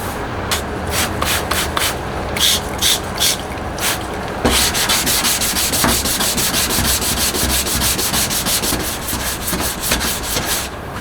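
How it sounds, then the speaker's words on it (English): Sanding a damaged body area on a Toyota Tacoma to prep it for bed liner, a loud, close, continuous abrasive rubbing with rhythmic back-and-forth strokes. "Then I sand and primer the damaged area to get it ready for bed liner."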